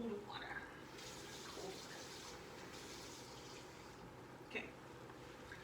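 Cold tap water runs steadily from a faucet in a home kitchen, to be mixed with cornstarch for thickening a beef bourguignon, a continuous soft broadband rush with a brief splash near the end.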